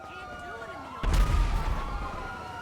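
Explosion in a GTA game session: a sudden low boom that cuts in under a voice, then a rumble that decays over about a second and a half.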